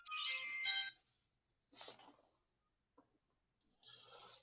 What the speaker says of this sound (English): My phone was going on.